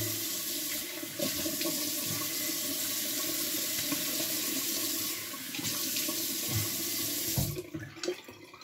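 Steady rush of water running from a tap, continuous and fairly close, with a couple of brief splashes or interruptions and no talking.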